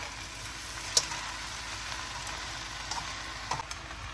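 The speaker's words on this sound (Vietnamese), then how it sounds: "Rồi Dung trộn đều rồi á" Vegetarian stir-fried noodles with chives being tossed in a pan, a steady soft sizzle with a few faint clicks and taps of a utensil against the pan.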